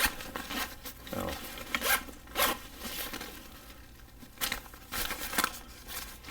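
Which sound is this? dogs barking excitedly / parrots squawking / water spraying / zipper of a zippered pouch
zipper of a zippered pouch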